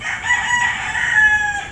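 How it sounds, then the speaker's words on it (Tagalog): A rooster among a flock of fierce kamusang chickens crows loudly and close, one drawn-out strained call carrying through with no talking. "Ayan, yung mga manok na yan, napagkatatapang mga kamusang."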